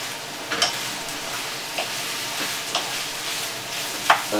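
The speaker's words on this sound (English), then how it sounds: "And give it a little stir." Cabbage frying with garlic and fresh seasoning, stirred in a hot pot: a steady sizzling hiss with several distinct scraping strokes and light clinks at irregular intervals, close up and without voices.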